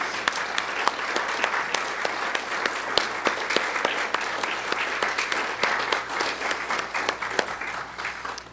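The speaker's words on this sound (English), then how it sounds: "I want you to give yourselves a round of applause" Sustained applause from a live audience at an education event, dense steady clapping filling the whole stretch with no speech over it.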